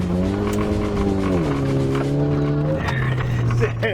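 A Talon rallycross car on a test run around a track, its engine droning steadily loud and close with rising and falling pitch as it shifts, tires squealing, while a voice talks over it.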